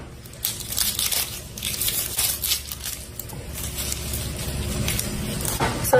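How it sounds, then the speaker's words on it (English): A knife cuts through an onion on a board, giving repeated crunchy chopping thuds and crisp crackling slices at an uneven pace, close and moderately loud, with no talking. "So we're going to cut our onion now"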